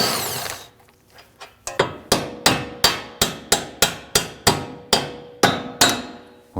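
A 15mm socket on a tool undoes the rear sway bar end link of a 2010-2019 Ford Taurus. About a dozen sharp, loud metallic impacts arrive in a steady rapid rhythm, close and with no voices.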